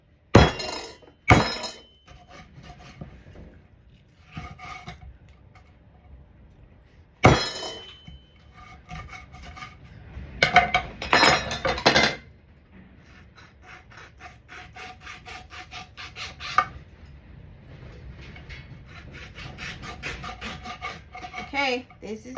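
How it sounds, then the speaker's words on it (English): Knife cutting through pigtails for Liberian collard greens, a series of sharp chopping knocks on a board followed by rasping, sawing strokes, close and fairly loud. "See, the knife goes through the pigtails really nice."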